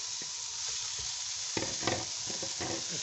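A spoon stirs mashed potato, peas and spices in a hot pan, giving soft scraping strokes over a quiet sizzle, a few sharper scrapes coming in the second half, with no voices.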